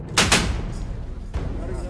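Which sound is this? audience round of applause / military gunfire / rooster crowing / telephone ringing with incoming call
military gunfire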